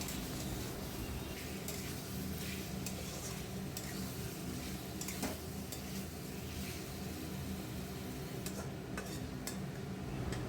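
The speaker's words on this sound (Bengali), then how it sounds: "এবার দিয়ে দিলাম ম্যারিনেট করা চিকেনটা এর সাথে মিশিয়ে বেশ ভালো করে ভেজে নিতে হবে।" Marinated chicken frying in a pan with spices, a steady sizzle under repeated scraping and stirring strokes, close and fairly loud, with no talking.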